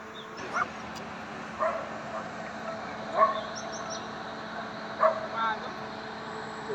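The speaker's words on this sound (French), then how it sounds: "Seuls quelques chiens aboient." Dogs bark before dawn at the Venezuela border, a few faint, distant yips scattered every second or two over a low background hum.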